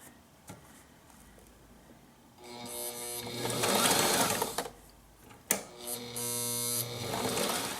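A sewing machine runs a straight stitch on a pillow cover in two bursts of steady, close whirring and rapid needle clatter, separated by a brief pause, with no talking.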